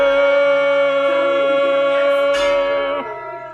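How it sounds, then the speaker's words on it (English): A ship's gong aboard the historic Ambrose ship at South Street Seaport is struck and rings loudly with a sustained metallic tone that slowly fades. A second, fainter clang follows near the end. "So even if it's whirring real loud, you'll be able to still hear that gong."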